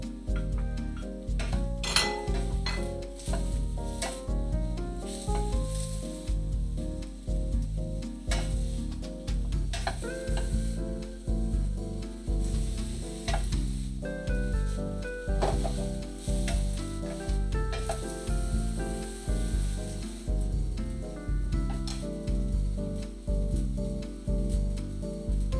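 Squash and zucchini sizzle in olive oil in a pan, with a steady bright crackle, stirring and the occasional clink of a utensil on the pan throughout, close up and without talk.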